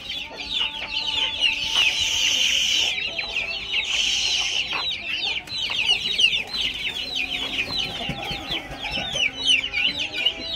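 A mother hen and her chicks cluck steadily in a crowded coop, with continuous high chirping and peeping over lower hen clucks, close and fairly loud throughout.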